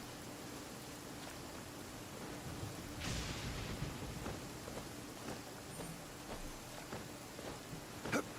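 Steady rain hisses through a stormy scene in the video game Genshin Impact, with a low swell of thunder partway through and a few faint knocks over the constant wash.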